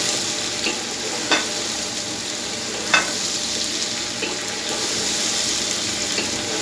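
Six medium tomatoes being fried and stirred in a pot for chicken chana pulao, a steady sizzle with a few sharp scrapes of the spoon against the pot, close and alone.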